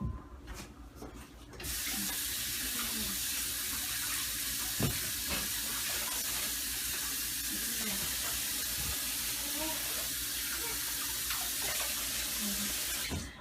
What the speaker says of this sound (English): I'm going to use hot water.